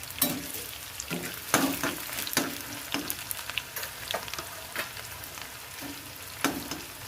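Onions fry in a hot pan with a continuous close sizzle, punctuated by frequent clacks and scrapes of a spoon stirring them. No voices are heard.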